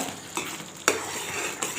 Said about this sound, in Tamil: எப்பவுமே அல்வாலாம் கிண்டும் போது அடிகனமான பாத்திரம் வச்சு கிண்டணுங்க